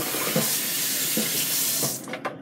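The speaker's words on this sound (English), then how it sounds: "Cut that off and let's go ahead and rinse this out." Tap water runs steadily into a container as it is rinsed out, a continuous close splashing hiss that cuts off near the end.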